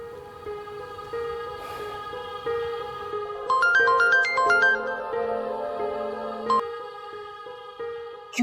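A phone ringtone plays during a call in a drama scene, a melodic electronic tune with a quick run of rising and falling notes in the middle, moderately quiet and otherwise alone.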